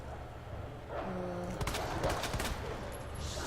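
Gunshots in the video game Resident Evil 2: a quick cluster of close, sharp shotgun-style blasts in the middle, over a low background rumble.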